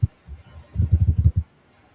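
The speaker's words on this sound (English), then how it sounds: "The clacking is my keyboard." A computer keyboard clacks in a fast burst of about eight sharp, close keystrokes, with a few scattered taps before it and quiet after.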